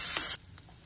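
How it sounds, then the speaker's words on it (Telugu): Ginger, garlic and tomatoes hitting hot oil, a loud burst of sizzling spray for about a third of a second that drops abruptly to a faint, low hiss. "అల్లం వెల్లుల్లిపాయ అవన్నీ బాగా వేగాలి నూనెలో"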